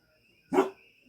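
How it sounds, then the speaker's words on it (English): A single dog bark, close and fairly loud, about half a second long, on a windy day with a wind advisory in effect, over a quiet background with no talking. "he's literally barking at the wind"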